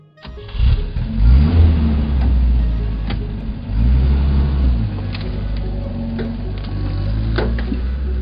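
A four-by-four car engine revs up and settles in repeated swells, steady and fairly close, with a few light clicks over the running engine.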